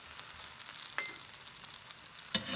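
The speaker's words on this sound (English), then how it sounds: "So now I'm just going to add more oil so it doesn't stick to my surface." Oil crackling and sizzling steadily in a hot pan while cooking an onion carrot uttapam, a continuous close frying hiss with a couple of sharper pops and no voices.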